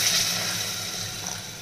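Water poured steadily into a cooking pot of rice for homemade vegetable pulao, a continuous close splashing fill lasting the whole moment with no talk.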